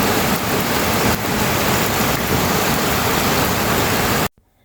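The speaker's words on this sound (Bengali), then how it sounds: "অনেক বৃষ্টি হইতেছে আর ঠান্ডা।" Heavy, cold evening rain pours outside a home in Italy, a loud, dense, constant wash of noise with a couple of faint thuds, ending abruptly.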